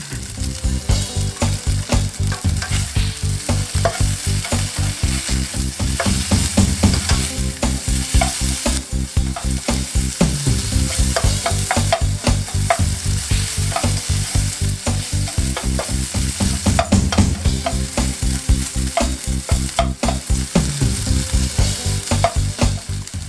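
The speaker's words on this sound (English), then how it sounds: "Add a bit more sesame oil. Stir that well." Steak chow mein with sesame oil is stir-fried in a hot pan, giving a loud, continuous sizzle broken by regular scraping and tossing sounds, with no voices.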